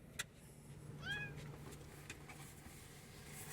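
A pet cat gives one short, faint meow inside a van, heard once near the start against quiet background hiss and a low hum.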